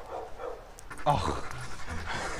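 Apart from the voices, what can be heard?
dogs panting and whimpering in backyard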